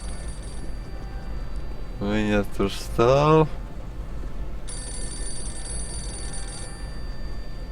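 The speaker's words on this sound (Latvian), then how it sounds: "Nu, telefons zvana sekretārai dziļi pie Dīrsas." A telephone rings in the video game Postal 2 with a brief electronic trill, heard alongside someone speaking and a steady background hum.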